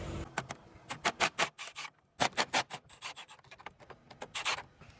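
Repeated short rasping bursts of a ratchet or wrench backing out 10mm bolts on the grille of a Ford F250 truck, close up, in quick rhythmic clusters with a brief pause midway, no talking.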